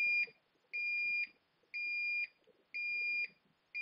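A HikCentral security alarm zone beeps in a steady repeating pattern, four loud, even, high-pitched tones about one second apart, each with a short gap between, sounding close and clear over faint background noise.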